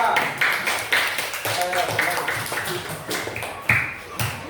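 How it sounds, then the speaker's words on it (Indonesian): Students in a classroom applaud group 2, uneven light claps and taps coming in loose bursts, with voices talking over them. "Berikan aplaus kepada kelompok 2."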